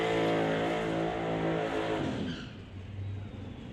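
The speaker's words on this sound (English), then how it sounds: "it is Jordan Brandon, the 2000 Chevy Camaro, the turbocharged LS power plant, up against Tyler Bodke in the Fox Body Mustang." Drag racing cars, a turbocharged LS-powered 2000 Chevy Camaro and a Fox Body Mustang at an outlaw 275 drag event, loud revving engine roar with a rising whine that drops away as the car pulls off.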